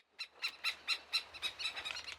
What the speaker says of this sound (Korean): 지금 여기 있는 새들도 자기 새끼는 아니지만 다 같이 지금 가담을 해서 쫓아내려고